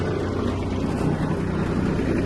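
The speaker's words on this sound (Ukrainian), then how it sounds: "давайте включимо вал відбору потужності. Перша передача" An Iseki TK-25 Japanese mini tractor idles steadily with its power take-off engaged in first gear and a rotary tiller lowered, giving a continuous low engine drone with no talk.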